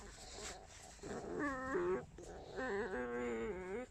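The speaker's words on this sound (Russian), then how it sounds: "Скрип лисы определяется расстоянием до нее." Fox squeaking and growling at very close range, a few short whiny squeals and rough growls in two bursts, near and fairly quiet.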